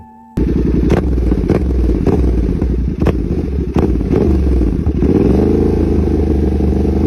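A 270-degree parallel-twin motorcycle engine with a Ducati-like character revs loudly and close, throbbing at idle and rising in a few sharp blips over several seconds, with no talk.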